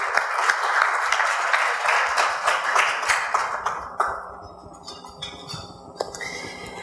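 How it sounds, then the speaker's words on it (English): Applause from an audience for the judges at an awards event, with a burst of clapping that thins into scattered claps and light clinking of glasses as it dies down. "And once again, ladies and gentlemen, a round of applause for our"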